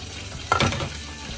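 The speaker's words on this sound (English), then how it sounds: "for my pritong manok, for fried chicken, I use this coconut oil, organic virgin coconut oil" Chicken frying in organic virgin coconut oil, a constant sizzle that flares loudly for a moment as the pieces are stirred, then settles back to a steady crackle.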